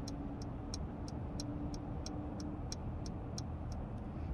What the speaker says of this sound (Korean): 우측 깜빡이 켜고